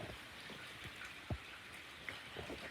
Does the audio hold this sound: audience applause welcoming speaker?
no